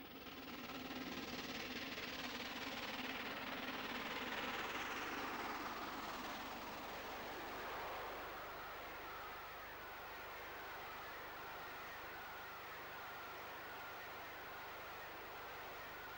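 LMS Pacific 6201, a steam locomotive, hauls an excursion train north of Abergavenny as a faint, distant rumble that builds, peaks and then slowly fades as it passes.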